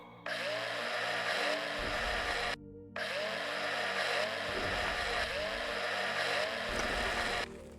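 A power drill in the game Breathedge whines steadily in two long runs, cutting out briefly between them, loud and close with a gritty mechanical buzz.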